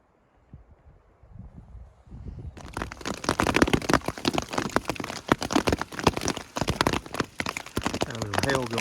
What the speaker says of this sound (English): Got a little hail going down.